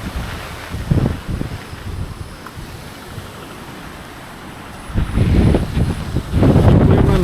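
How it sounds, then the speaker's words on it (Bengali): Strong storm wind buffets the microphone outdoors near a flooded field and trees in rural Bangladesh. Heavy rumbling gusts rise and fall, with loud surges near the start and end. "বাতাস এখনও হইতেছে যে এখনও প্রচুর পরিমাণে বাতাস হইতেছে"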